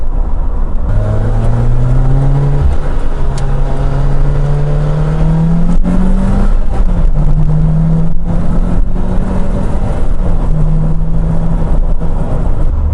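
Lotus Exige sports car driving and accelerating on a UK road, its engine rising in pitch through several gear changes, loud and close throughout with no talking.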